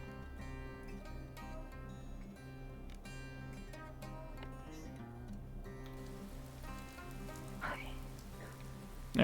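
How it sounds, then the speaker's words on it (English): Rain patters softly in a sci-fi VR game under layered background music, a steady hiss that continues throughout. "Now it's raining."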